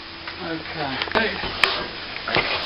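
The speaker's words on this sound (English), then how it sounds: "just scrape this back. Come out quite flat now." A plastering trowel scraping back fresh plaster over a patched hole in a plasterboard ceiling, a few short rasping strokes with small taps, faint and close.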